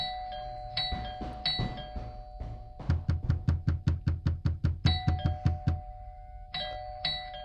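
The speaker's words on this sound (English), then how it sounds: "We just got doorbell." A doorbell rings over and over in quick regular chimes, about a dozen in a row, after a few scattered rings at the start and end.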